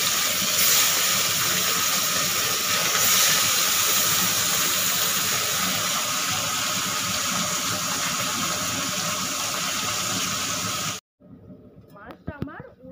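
Bata fish rubbed with salt and turmeric, frying in oil: a loud, steady, dense hiss that cuts off abruptly near the end, followed by a short voice.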